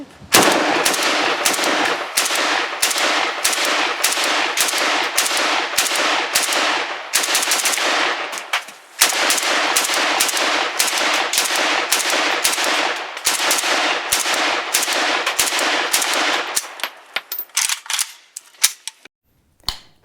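A Hungarian AK-55 rifle fires loud, rapid bursts on an outdoor range, with sustained automatic strings, a short pause, more long bursts, then scattered single shots toward the end.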